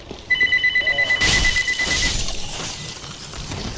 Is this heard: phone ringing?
yes